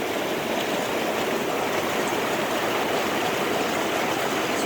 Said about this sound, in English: It's really coming down out there.